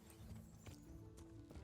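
Horse hooves clip-clop at a steady trot in the medieval video game Kingdom Come: Deliverance, quiet and even, with a faint whinny.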